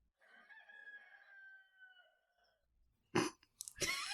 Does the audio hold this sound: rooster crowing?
yes